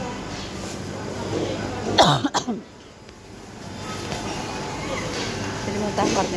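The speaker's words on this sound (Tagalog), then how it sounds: "Ano talaga yung ubo ko." A person at an open-air meat and vegetable market gives a short burst of coughing and throat clearing, then goes quiet as market murmur carries on around them.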